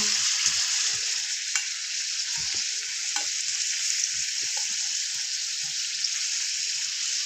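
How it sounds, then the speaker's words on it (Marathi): Puris deep-fry in hot oil with a steady, bright sizzle, punctuated by scattered soft clinks and stirring knocks close by, no talking. "आपल्याला पुरी फक्त तलायला दोन मिनटंच लागतात"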